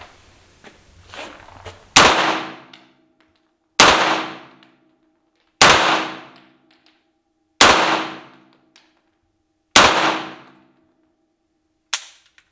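Gunshots at an indoor shooting range in Riga, Latvia: five loud, evenly spaced reports about two seconds apart, each with a ringing decay, plus a final shorter shot, with faint talk before the first.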